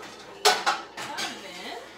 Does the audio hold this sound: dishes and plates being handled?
yes